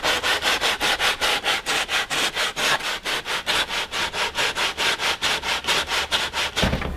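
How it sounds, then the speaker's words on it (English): Sandpaper is rubbed in quick, steady back-and-forth strokes across the foam outer wingtip of an FT Versa Wing model airplane, loud and close, about twenty-five even strokes with no talk. "the next step will be to sand the outer wingtip to make it 90 degrees"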